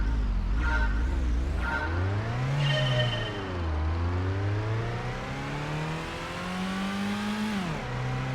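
A synthetic car engine in Gran Turismo on the PS1 revs up and down repeatedly, its pitch climbing through gears and dropping at each shift, loud and continuous.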